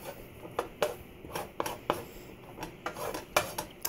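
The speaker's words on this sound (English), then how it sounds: "So get that tossed around nicely in the garlic and olive oil." Carrots get tossed in a pan with garlic and olive oil, giving a string of clattering metal hits and scrapes from a utensil against cookware, close and uneven, with no voices.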